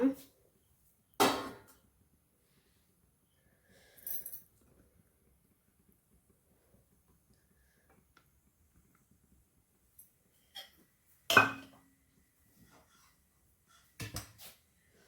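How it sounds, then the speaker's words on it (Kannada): A steel vessel set onto a gas stove while cooking ragi, giving a few sharp metallic clanks and clatters spaced apart, with quiet pauses between them. "ಅದಕ್ಕೆ ಒಂದು ಸ್ಟೀಲ್ ಪಾತ್ರೆ ಇಟ್ಟಿದ್ದೇನೆ"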